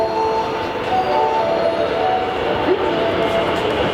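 Osaka metro train at a station in the Shinsekai area, a continuous loud rumble with a sustained whine and squeal that runs throughout, close by.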